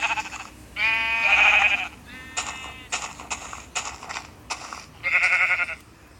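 Sheep in a video game bleating in several distinct calls, some long and wavering and others short, fairly close and clear over a quiet background.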